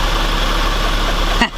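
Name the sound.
trials motorbike engine idling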